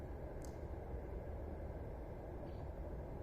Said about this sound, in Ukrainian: Потяг їде і шумить.